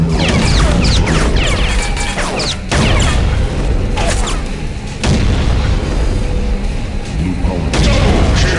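Power nodes in Unreal Tournament 2004 Onslaught blow up with loud, heavy booms and crashes over dense battle noise, with several big blasts in quick succession.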